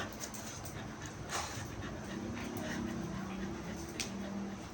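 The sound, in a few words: dogs panting and whimpering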